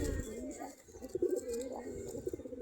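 Deshi Giribaz pigeons perch by their coop and give soft, low, repeated coos at close range, with faint background murmur throughout.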